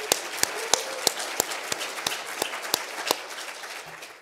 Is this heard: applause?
yes